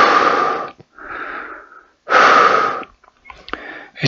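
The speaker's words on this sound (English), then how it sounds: "this is just to test if the mask also works as a preventor for wind noises, for breath noises in the microphone" Breath noises into a microphone through a face mask: two loud, close rushing exhales alternating with softer, breathy inhales, with no speech.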